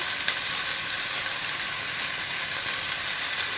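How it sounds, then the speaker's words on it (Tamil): Onions with a pinch of salt frying in a pan, an even, bright hiss of sizzling oil that holds steady throughout with no voices. "ஸோ இப்போதைக்கு ஆனியன் ஃப்ரை ஆகிறதுக்காக கொஞ்சோண்டு வந்து நான் சால்ட்டு போட்டிருக்கேன்"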